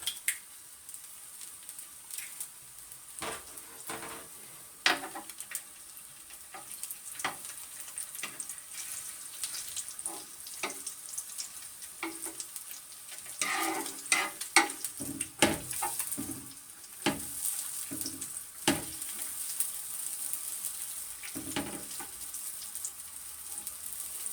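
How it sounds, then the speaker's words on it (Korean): An egg frying in a pan for fried ramen gives a steady close sizzle with scattered sharp crackles and pops throughout, and no one speaks. "자 여기다가 계란 후라이"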